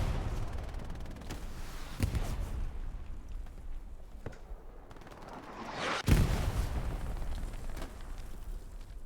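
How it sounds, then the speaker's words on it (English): Video game battle in a team match: a big explosion bursts through continuous rattling gunfire, with scattered sharp shots before and a heavier blast near the end, all dense and fairly distant. "Big explosion."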